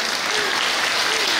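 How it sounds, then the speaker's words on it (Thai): Audience at a school's 66th anniversary merit-making ceremony applauds steadily, a dense, sustained clapping that fills the whole moment without any voices over it. "ขอเสียงปรบมือหน่อยนะครับ"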